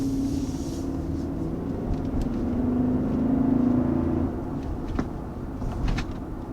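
Low, steady engine rumble of a 2022 Infiniti QX80 full-size luxury three-row SUV, swelling slightly midway as the revs rise, heard up close with no talk over it.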